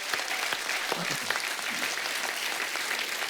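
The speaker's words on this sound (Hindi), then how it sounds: "तो जोरदार तालियां हो जाएं आज." Loud, dense applause from a studio audience at a talk show honoring a singer, continuous clapping with sharp individual claps standing out, sustained at an even level throughout.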